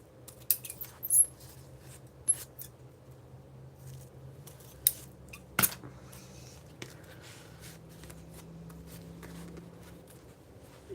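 Scissors snip collage paper in a quiet room, a series of soft, close, irregular cuts with small paper rustles between them.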